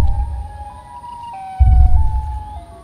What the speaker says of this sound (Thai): เฮ้ยไซเรนเฮดไอ้เซนหนีเร็ว